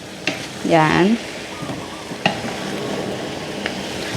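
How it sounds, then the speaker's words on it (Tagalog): Meat sizzles and gets stirred with soy sauce in a pan while adobo cooks, a steady frying hiss with a few sharp clinks of a utensil and a short spoken word near the start. "gusto kong pabanguhin muna yung toyo with the karne para ma-coat muna niya yung mga karne"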